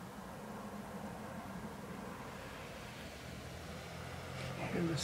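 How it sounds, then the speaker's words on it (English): A snow plow rumbles low and continuous in the distance during a thick snowfall, faint and steady, swelling slightly near the end as a voice starts to speak. "Hear the snow plow back there in the background."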